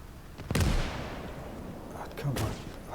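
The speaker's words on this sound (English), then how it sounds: "Right, let's have the big boy artillery." Artillery fire in the WWII strategy game Gates of Hell: one heavy, booming blast rings out and decays over a second, then a second, softer report follows near the end, both set against a low battlefield rumble.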